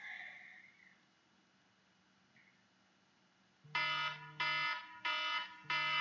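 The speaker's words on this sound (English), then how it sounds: "And that's the timer going off." A kitchen timer alarm goes off with loud, bright electronic beeps in four bursts after a stretch of near silence.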